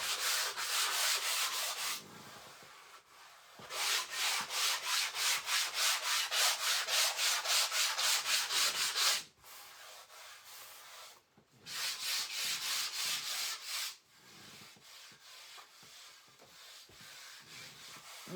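Hand sanding a piece of cotton wood, steady raspy back-and-forth strokes in long bursts separated by brief pauses, close and fairly loud, with no talking.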